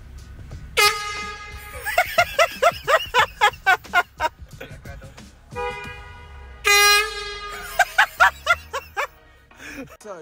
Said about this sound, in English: now honk the car horn